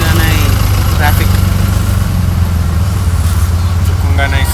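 Engines of stalled road traffic in Manali rumble steadily and close, a constant low throb with faint intermittent higher tones, heard beneath people talking.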